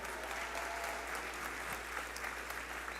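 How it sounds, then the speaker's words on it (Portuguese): Steady applause from a church audience welcoming a pastor, dense even clapping filling the room at moderate level throughout, with no talk over it. "Dá um aplauso aí"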